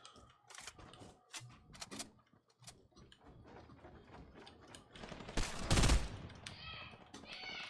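Video game gunfire, with scattered sharp shots and rapid bursts at varying distances and a loud cluster of shots near the end, over quiet in-game clatter.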